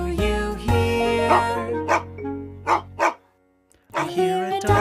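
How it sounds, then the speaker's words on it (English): A child's toy or kids' video plays a dog barking in an indoor play setting: several short electronic yaps, close and fairly loud, over a bright, tuneful background, ending with a brief pause and then more sound. "I hear a dog, dog, dog, dog, dog. I hear a dog."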